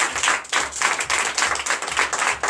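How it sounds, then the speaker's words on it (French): A short burst of steady applause from a church congregation at a Sunday service in Benin, many hands clapping together in a loose rhythm, fairly close and with no one speaking. "c'est notre Seigneur Jésus, notre Dieu, que je vous demande d'applaudir encore très fort"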